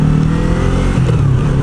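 A Yamaha MT-03 motorcycle engine revs loud and close in a short burst, its pitch rising briefly and dipping as the throttle eases.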